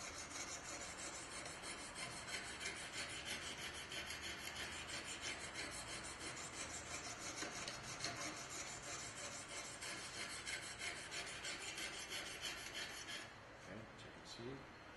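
A blade drawn steadily back and forth across a Chosera sharpening stone with light pressure, a continuous close gritty rasping that runs unbroken for the whole stretch, easing slightly near the end.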